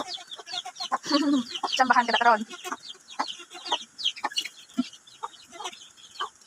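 Chickens cluck and squawk in quick, irregular bursts nearby, with a person speaking briefly among them.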